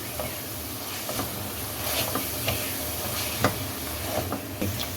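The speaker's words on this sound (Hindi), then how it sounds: "मसाले को मैंने 2 से 3 मिनट तक अच्छे तरीके से भून लिया।" Spice masala of red chilli, crushed chilli, turmeric and coriander powder stirred and fried in a pan for aloo katliyan, a steady sizzle and hiss with scattered soft scraping stir strokes, close and moderately quiet.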